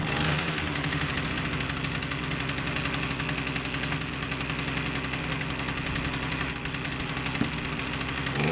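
A Poulan Pro pole saw engine runs continuously, loud and close, with a rapid buzzing, rattling pulse that holds steady throughout.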